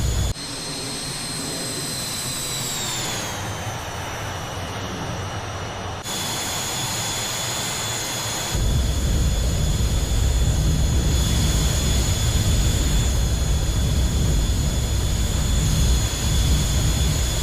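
Steady whine and roar of an MB-339 jet landing in DCS World, high engine tones that sweep down, then a louder broadband rumble as the aircraft rolls along the runway.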